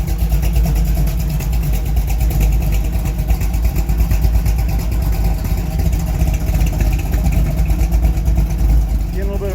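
A 1971 Chevrolet Cheyenne pickup with its factory big block engine runs steadily on a test drive, a low continuous rumble with a rough, pulsing texture and no breaks.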